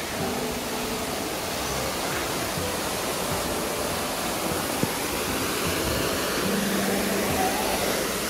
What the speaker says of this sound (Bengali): এই ঝর্ণাটা বেশ ভালো